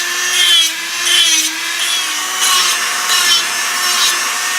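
Needle file rasping back and forth across the edge of a model boat chimney, shaping a small flange; steady, rhythmic strokes up close, about six passes with no talking.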